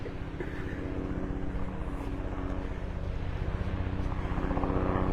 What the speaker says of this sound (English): I heard maybe those 2 helicopters coming back now.